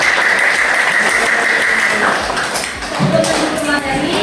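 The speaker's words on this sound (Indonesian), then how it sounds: "Tepuk tangan dulu." Students in a biology classroom lesson clap in a burst of applause, loud and close, with voices mixed in as it tapers off.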